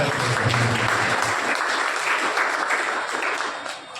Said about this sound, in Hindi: आप जोरदार तालियां बजाकर उनका स्वागत करें।